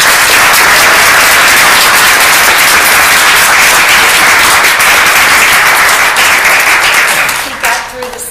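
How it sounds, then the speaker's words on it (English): Loud, dense audience applause at a conference session, sustained clapping from a large crowd that fills the space evenly before tapering off near the end. "So let's have a round of applause."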